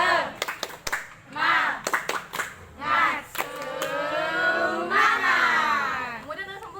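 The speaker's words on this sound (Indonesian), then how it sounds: "Kita tahu kan tepuk semangat." A class of students does a rhythmic spirit clap (tepuk semangat) in a classroom, with sharp hand claps in patterned bursts and the young voices chanting along.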